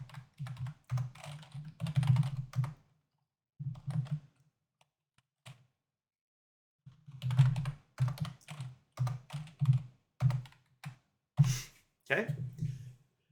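Computer keyboard typing while entering a line of code for a memory game app: bursts of close, rapid key clicks in uneven runs with a short pause midway.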